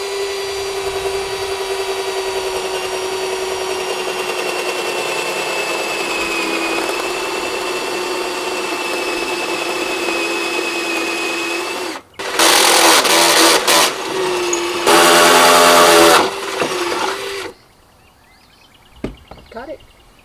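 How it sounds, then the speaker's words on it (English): A power drill whines in a long steady run while installing a power pole, then several short loud bursts of drilling follow before the noise cuts off. "before I drill the other one"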